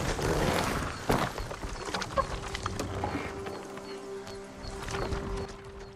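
Horses gallop in the video game Ghost of Tsushima, a quick clip-clop of hooves at moderate distance with a brief whinny, heard fairly quietly over ambient game sound.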